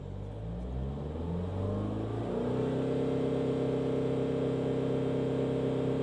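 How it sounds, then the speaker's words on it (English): A BMW 3 Series diesel engine is revved up, its rumble rising steadily in pitch over a couple of seconds and then holding at a high, even drone. "let me just rev this up"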